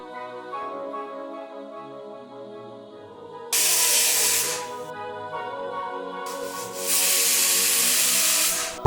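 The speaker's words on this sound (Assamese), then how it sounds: "কুকাৰটো এতিয়া গেছত বহাই দিলোঁ।" A pressure cooker sitting on a gas stove, cooking small fish, lets out two long bursts of loud steam hiss separated by a quieter pause, over a faint tonal background.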